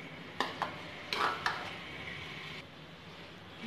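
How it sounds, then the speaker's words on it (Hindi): Crushed boiled potatoes going into semolina and being mixed in a pan, heard as soft scraping and stirring with a few light clinks of the utensil against the pan, then quieter. "अब हमारे सूजी के अंदर हम डालेंगे पटेटो, जो हमने बॉईल करके रखे थे उसको हमने क्रश करके रखा है"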